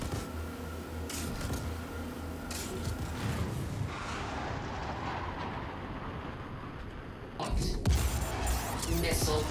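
Missiles launching and exploding in Star Citizen, a sustained rumbling roar of thrust and distant blasts, swelling into a louder explosion near the end.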